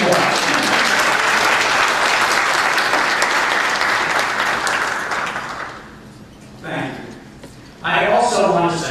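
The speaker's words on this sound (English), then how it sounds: "I think 16 years merits at least 2 rounds of applause." An audience breaks into sustained, loud applause at a welcome event, a dense roar of clapping for several seconds that fades out before a speaker's voice comes in.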